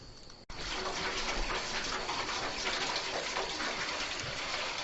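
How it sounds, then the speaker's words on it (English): A farmyard tap runs water into goat and chicken water containers, a steady, faint, close splashing gush after a brief quiet start. "Dripping."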